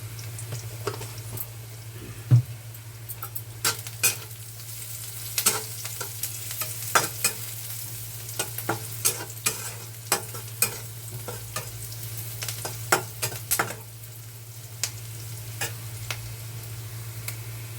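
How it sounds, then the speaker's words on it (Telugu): Onions sizzle in a pan with turmeric while a spoon stirs and scrapes through them in irregular knocks, over a steady low hum, close and moderately loud, with no talking. "ఉల్లిపాయలు వేగాలి అదిగా"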